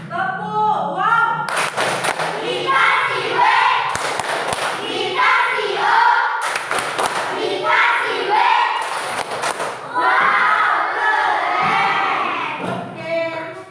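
A fifth-grade class performs the 'tepuk wow' clapping chant for a group's score, a burst of rhythmic claps and loud children's shouts and cheers with thumps, repeated in waves over a lively crowd.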